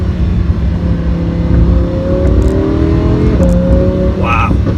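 Lamborghini Huracan engine revving and accelerating hard, a loud, steady, close-up roar with rising tones and a brief shift near the end.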